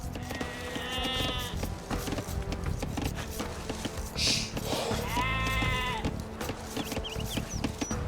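Sheep bleat repeatedly in the strategy game Age of Empires 2: Definitive Edition, two drawn-out bleats standing out over a busy bed of in-game chopping and work sounds.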